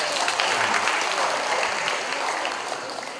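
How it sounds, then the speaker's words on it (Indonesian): A crowd claps steadily and loudly throughout, a dense continuous applause with no voices standing out. "tepuk tangan untuk para relawan kita"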